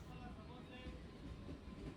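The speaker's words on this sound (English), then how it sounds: "The train has already started moving." A Chennai commuter train starts moving with a low, continuous rumble and faint rattling of the carriages, heard from inside, quiet and steady, with a voice speaking over it.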